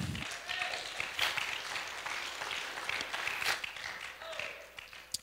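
A church congregation claps during a worship service, a broad wash of hand claps with a few sharper peaks, fairly distant and steady, with a voice briefly heard over it.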